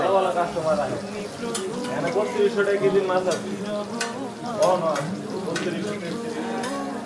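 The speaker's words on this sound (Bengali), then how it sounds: "তো আমাদের ভাজা মোটামুটি প্রায় অর্ধেকের মতো হয়ে গেছে" Hilsa fish frying in a pan at a riverside eatery at Mawa Ghat on the Padma River, with a crackling sizzle and occasional utensil scrapes mixed under music and voices.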